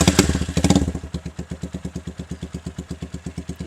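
Modified Hi Speed Infinity 150 motorcycle engine idling nearby with a steady, lumpy thumping pulse, a few louder revs at the start, no talking.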